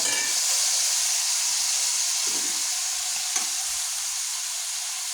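Fish pieces for a fish curry sizzle steadily in a pan with roasted onion, a constant broadband frying hiss with a few soft stirring clinks, close and even throughout.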